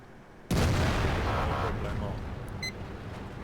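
A tank gun firing in World of Tanks, one sudden loud boom with a rumbling tail that decays slowly, followed by a short electronic beep.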